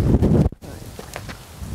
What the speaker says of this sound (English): This is so much wind.